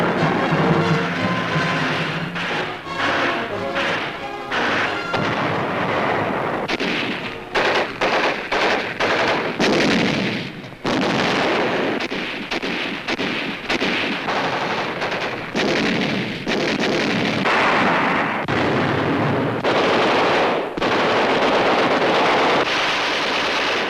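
Dense, loud machine gun bursts and heavy artillery fire from a 1944 World War II newsreel of a US Marine patrol advancing under constant fire, with rapid rattling volleys, booming blasts and wind buffeting throughout.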